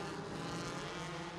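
Field of stock-class race cars roaring past at Irwindale Speedway, a dense, continuous wall of engine noise heard from a distance, fairly faint and without any break.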